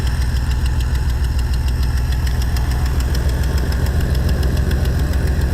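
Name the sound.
1991 Nissan Pathfinder engine chugging at idle in neutral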